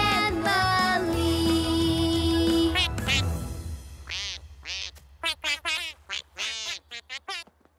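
Cartoon ducks quack in a quick series of bright, separate calls that follow a stretch of loud music, which stops partway through.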